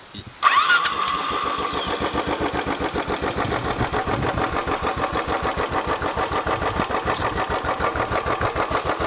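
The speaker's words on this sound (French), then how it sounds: "je vais vous faire écouter le son de cette Royal Enfield" A Royal Enfield motorcycle engine cranks and fires up, then settles into a loud, steady, thumping idle with an even low pulsing rhythm close by.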